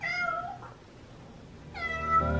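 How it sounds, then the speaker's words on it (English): Cats meow twice, one clear call at the start and another near the end, close by and fairly loud with a quiet gap between them. "Oh, kitties."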